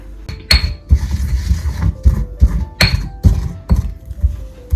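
Black pepper and cumin seeds crushed by hand, a run of sharp knocking and clinking strikes in an irregular rhythm, loud and close, with no voices.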